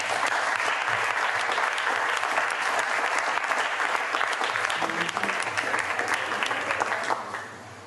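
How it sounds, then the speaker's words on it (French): Dense, sustained audience applause for a slam poet at a poetry slam in Madagascar, steady and loud throughout before tapering off at the very end, with faint voices underneath. "Vasco, lui-même présent, sous vos applaudissements."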